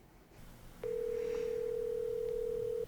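A phone call placed through Alexa rings out as a single steady electronic ringback tone lasting about two seconds after a short quiet lead-in, clear and close.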